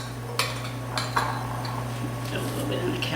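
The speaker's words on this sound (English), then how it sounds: "we're just going to mix this up so you have a nice herb" A herb spice rub for pork tenderloin being mixed in a bowl: a few sharp clinks of a utensil against the bowl, then softer scraping and stirring, quiet and close, no talk.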